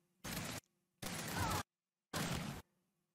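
Gunfire in the video game Gears 5 comes as three short, loud bursts of rapid shots separated by brief silences.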